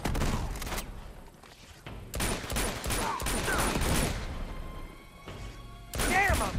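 Bursts of gunfire from the Uncharted 2 Among Thieves Remastered video game, set in Borneo, come in several clustered volleys with short gaps, fairly loud and mixed with game effects.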